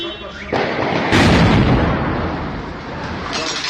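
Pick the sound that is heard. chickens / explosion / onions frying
explosion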